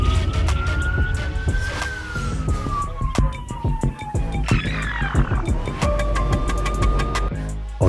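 A police car siren wails, rising and falling close by over engine noise and traffic during a chase through busy streets, with a steady pitch sweep and sharp clicks throughout.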